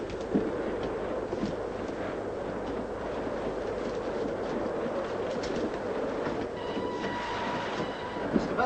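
A 1940s passenger train runs on its rails with a steady, loud rumble and clatter that fills the whole stretch. Faint, sharper clicks sit on top of the rumble.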